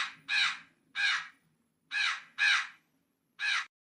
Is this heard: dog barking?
no